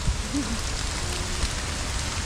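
Steady rain hisses and patters across an amusement park, a continuous broadband wash with a brief faint tonal squeak early on and no talking.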